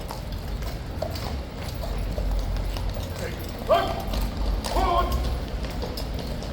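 Hooves of the King's Guard horses clip-clop on hard ground as they are led into the stables, a scattered, moderately distant rhythm under a steady murmur of background noise.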